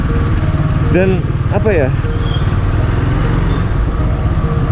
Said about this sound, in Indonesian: bunyi mesinnya pun mirip gitu kayak motor-motor yang cc-nya dulu Honda, Yamaha tuh paling 100, 125